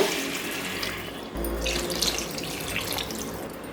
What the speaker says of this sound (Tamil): தண்ணி நல்லா தாராளமாக சேர்த்துக்கோங்க.